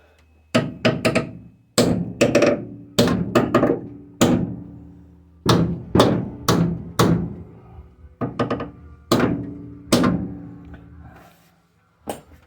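Repeated sharp hammer strikes on a Ford F100, loud and close, coming in irregular bursts of two or three blows with short pauses between them.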